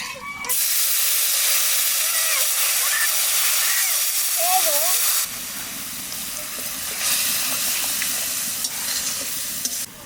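Panch phoron spices hit hot oil for a pumpkin curry and burst into a loud, close hiss that stays steady. A voice and faint tonal sounds play over the sizzle.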